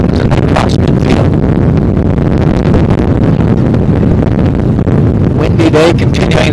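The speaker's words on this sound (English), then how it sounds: "Windy day continuing." Wind blowing at an outdoor men's college soccer match between Tampa and Flagler, heavy continuous buffeting across the microphone, loud and close, masking faint commentary in the background.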